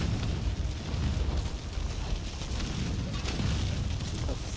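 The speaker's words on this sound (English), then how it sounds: "I'm setting bombs off" Bombs going off in Conan Exiles, a dense rumbling wash of explosions with deep booming low end and scattered bursts, continuous and fairly loud throughout.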